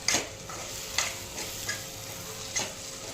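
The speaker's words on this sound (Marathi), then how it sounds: "हे सगळं परतून घ्यायचं" Red chili powder, turmeric and Malvani garam masala being sautéed in a pan, a steady soft sizzle punctuated by several distinct scraping stirs of a spoon against the metal.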